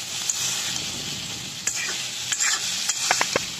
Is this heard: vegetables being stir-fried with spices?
yes